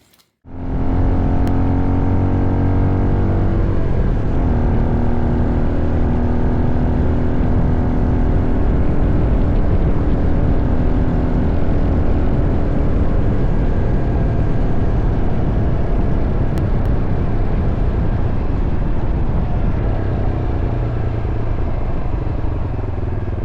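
A Honda XR650L motorcycle starts and rides at a steady, loud engine drone, close and continuous throughout, with a helmet rider's perspective and wind noise, and no talk.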